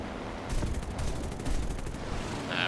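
Aircraft guns on a P-39N-0 in the War Thunder flight game fire in a short, dense burst of rattling shots over steady engine drone, with another quick burst near the end.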